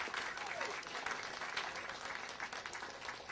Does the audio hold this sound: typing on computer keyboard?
no